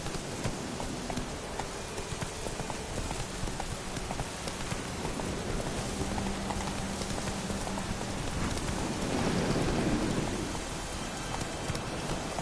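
Roach, a horse in The Witcher video game, gallops through the rain, hooves clip-clopping steadily under constant heavy rainfall with thunder rumbling in the background.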